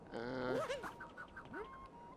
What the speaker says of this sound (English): the bird, there's the bird, is approaching